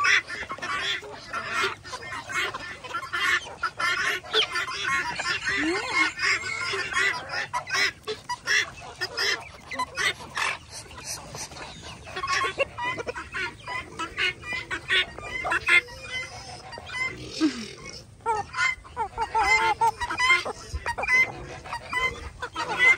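A rooster and a mixed flock of poultry at morning feeding, busy overlapping clucks, honk-like calls and squawks coming in irregular bursts, fairly close and lively throughout.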